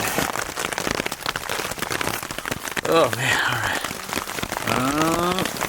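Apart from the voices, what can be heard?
heavy rain falling on a Hilleberg Niak tent during a storm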